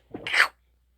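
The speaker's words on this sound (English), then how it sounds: "First the coughs, then the sneezes." A single short sneeze, sharp and close, followed by silence.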